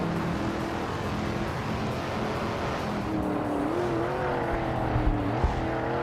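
A 1969 Ferrari 365 GTB races at Daytona in a video game, its engine droning steadily with rising pitch sweeps as it accelerates, loud and continuous with a brief tire squeal near the end.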